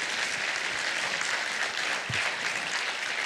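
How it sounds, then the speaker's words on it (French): An audience at a live debate event claps steadily, giving a dense, continuous wash of applause from many hands that holds at even loudness throughout. "Je pense qu'on va vous applaudir tous les deux."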